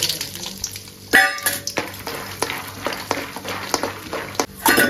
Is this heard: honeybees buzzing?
no